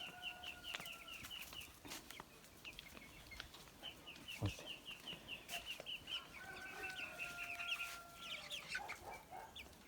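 Chicks, some Leghorn and some Liven, peep in quick, high repeated chirps amid soft scratching and pecking taps as they jump about and eat, fairly quiet and continuous, with no talking.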